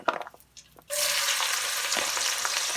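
Chopped onion dropped into hot oil for pumpkin soup sets off a sudden loud, steady sizzle that keeps going after a brief quiet stretch of faint kitchen clatter.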